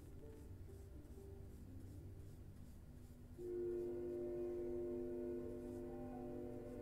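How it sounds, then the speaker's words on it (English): A passing train sounds faintly in the distance, with a low rumble and a sustained horn tone entering about halfway through and holding steady to the end. "Trains coming through."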